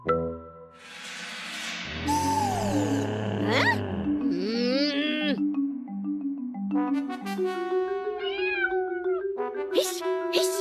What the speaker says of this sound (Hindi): हिश, हिश, अरे भाग कलूटी बिल्ली।